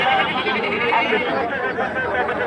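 Goats bleat amid the dense, steady hubbub of the crowded outdoor Panbazar cattle and livestock market before Qurbani, with many voices chattering all around.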